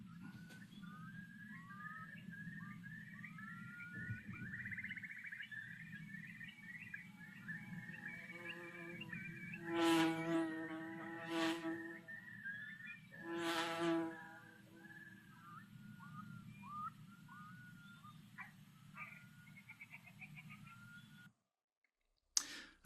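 Outdoor moorland recording with curlew calls at the start, red grouse calls and a bee buzzing past: bubbling bird calls run throughout, with a few louder whistled bursts around the middle over a steady low hum, no talking.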